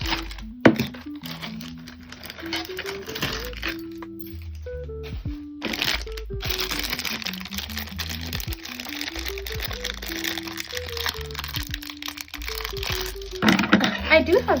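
Mochi gel bottle packaging being opened, faint crinkling, cracking and tearing of wrapping close by, irregular rustles over several seconds with background music underneath.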